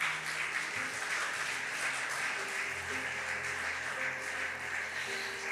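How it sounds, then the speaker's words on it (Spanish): Congregation applauding during a Spanish-language church service, a steady wash of clapping under faint background tones, with no clear break for about five seconds. "Dele un fuerte aplauso al Señor."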